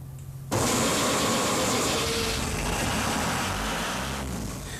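Water-cooled engine of an offshore rig lifeboat catching after a brief quiet moment, then settling into a loud, steady, close idle with a constant rumble.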